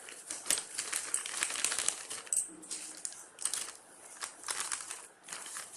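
Waste food packages are crumpled by hand, giving a close series of crisp, crinkly rustling bursts that come and go in uneven waves, fairly quiet, with no talking.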